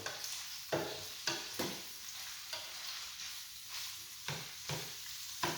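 Food frying in a pan while being stirred and folded over: soft continuous sizzle broken by repeated scraping strokes, about eight of them at uneven intervals, fairly close and quiet.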